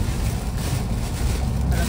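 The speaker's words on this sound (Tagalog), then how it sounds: "Malakas na yung hangin." Strong gusting wind from Tropical Storm Beryl in Texas buffets the microphone with a loud, continuous low roar and rumble that never lets up.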